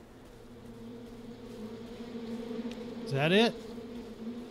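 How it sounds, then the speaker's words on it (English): Bees buzz in the game We Happy Few near a honey dig spot, a steady low drone that swells briefly louder, while a person speaks briefly. "That sounds like it. I can hear bees."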